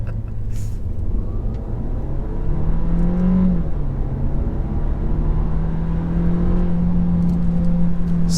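Seat Leon FR engine revving hard as the car accelerates, the loud, close engine note climbing and holding steady through a gear change with a continuous drone beneath.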